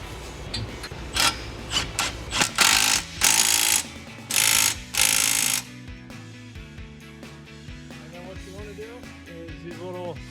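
Nuts being tightened on a front tie rod set for a 1994-2004 Ford Mustang, with bursts of loud rapid ratchet clicking in the first half followed by quieter metallic fiddling, close up.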